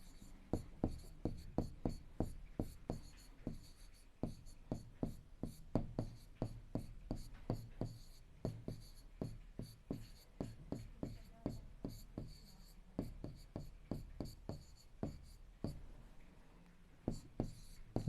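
A pen or chalk taps and scratches out a class 7 algebra equation, dividing both sides by 10, in a quick, irregular rhythm of short strokes and clicks, close and fairly quiet, with no talking over it.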